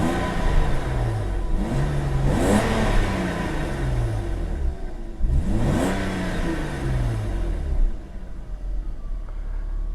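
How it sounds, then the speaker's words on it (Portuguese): A 1998 BMW 323i Sport engine revs repeatedly, climbing and falling in several strong sweeps with a sporty growl, close and loud with the idle rumbling in between. "Vamos ligar o carro. Ronquinho de esportivo ela tem, de verdade, né?"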